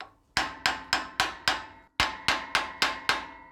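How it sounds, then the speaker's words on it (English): Ten sharp metallic strikes of a steel hammer on a brass hammer held against a wheel stud while removing Toyota Landcruiser rear axle parts, falling in an even rhythm with a short pause midway, close and ringing. "we're going to take a brass or copper hammer and place that on the end of the stud, and we're going to hit that with a regular steel hammer"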